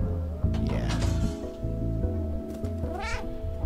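A cat meows in the video game Stray, with a few rising, wavering meows standing out over a steady, layered musical game soundtrack.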